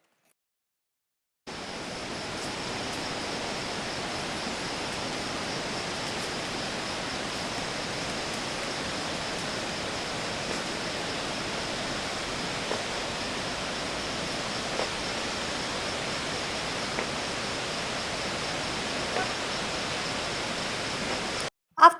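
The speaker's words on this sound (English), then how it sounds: "We got closer to the waterfall." Waterfall near Siangye, Nepal, heard as a steady, broad roar of falling water that holds unbroken and fairly loud from start to finish, with a few faint clicks over it.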